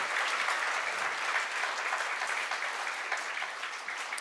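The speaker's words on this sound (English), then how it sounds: "Ladies and gentlemen, he deserves a bigger round of applause," Steady, dense applause from an audience at a talent-show audition, holding at an even level throughout and tapering only slightly toward the end.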